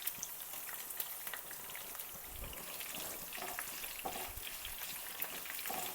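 Curry leaves and dried red chillies frying and being mixed in a pan for lemon rice, a faint, steady crackling sizzle with light scraping stirs throughout and no speech.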